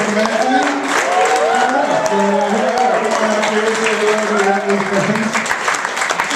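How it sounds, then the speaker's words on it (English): Gala guests at a charity fundraiser clap steadily while voices carry over the applause, with talk and cheering running throughout. "So give yourselves a round of applause for raising some money."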